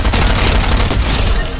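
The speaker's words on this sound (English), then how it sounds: "More gunshots behind the gas station." Dense gunfire in the video game Fortnite rattles without pause, a loud, continuous burst of rapid shots that fills the whole moment.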